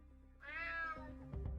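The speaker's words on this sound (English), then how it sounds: "Damn cat." A cat meows once in the stealth video game UnMetal, a clear, drawn-out rising and falling call heard alone and fairly close, followed by a brief low thud.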